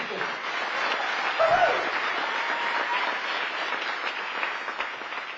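A church congregation claps together, a dense, sustained burst of applause from a crowd that carries on steadily throughout, with a brief vocal cry rising above it.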